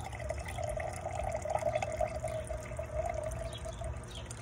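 Liquid pours into a container in a steady, continuous stream lasting several seconds, heard up close with no voices.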